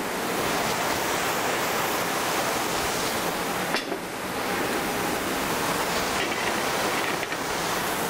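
Carrots, celery and onions sauteing in olive oil in a pan, a steady close sizzle that is loud and continuous throughout, with no talk.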